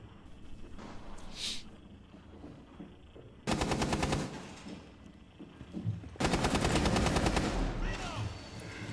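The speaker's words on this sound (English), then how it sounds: "Is he in a gunfight?" Gunfire in Rainbow Six Siege, with a single distant shot followed by two long, loud bursts of rapid automatic fire a few seconds apart, each rattling for about a second or more.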